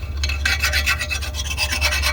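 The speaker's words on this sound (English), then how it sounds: "I'm going to take a drill bit and just kind of clean out in here. I'm not drilling anything, just rubbing it down, trying to get some of that rust off." A drill bit is rubbed by hand inside a rusty Lexus rear brake part, scraping off rust in quick repeated rasping strokes, close and fairly loud, with no speech.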